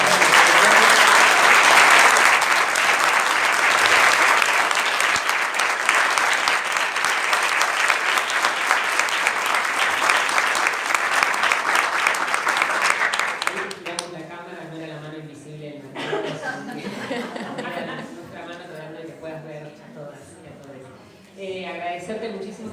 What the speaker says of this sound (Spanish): a ver si llegas a escuchar un aplauso